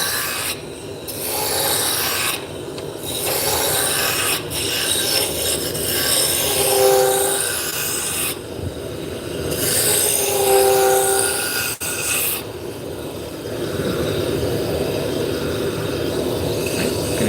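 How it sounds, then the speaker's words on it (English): A roughing gouge cuts wood on a spinning lathe with a continuous harsh rasping roar that swells and eases as the tool moves, and brief whining tones rise from the turning stock. "So this is my roughing gouge. I'm just removing material."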